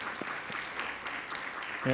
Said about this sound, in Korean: 사랑과 격려의 박수를 한번 하죠.